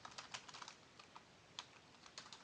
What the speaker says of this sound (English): I'm going to type this in